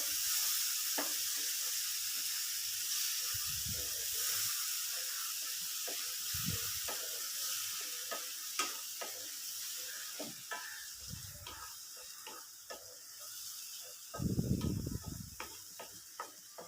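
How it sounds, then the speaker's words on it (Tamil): Tomatoes sautéing for an egg podimas gravy give a steady frying hiss throughout, with scraping stir strokes and clicks of a spatula against the pan, plus a few louder low thumps. "இப்போ தக்காளியை நல்லா வதக்கி விட்டுக்கலாங்க."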